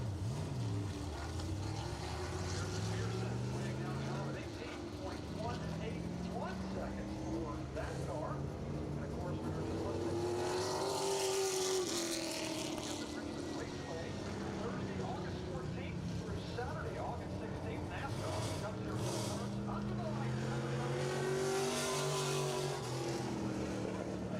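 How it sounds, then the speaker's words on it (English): Modified race cars at speed on a racetrack during qualifying, engines droning and rising in pitch as they pass, steady and fairly loud under a commentator's voice. "King Law Modifieds out on the racetrack right now."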